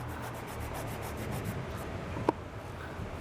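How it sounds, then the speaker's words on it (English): A pencil eraser rubs back and forth over drawing paper while sketching an Irish street scene, a soft, close, rhythmic scrubbing with one sharp tap partway through. "I did it too high on the page, so I erased it and moved it down about ½ an inch."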